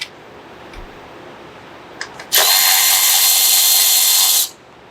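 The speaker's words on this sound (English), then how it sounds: "take our 8mm socket and remove these screws" A power tool with an 8mm socket backs out screws on a 2021 Ford Bronco with the 2.3L engine: a few brief clicks, then one loud steady whirring run of about two seconds, close up, with no talking.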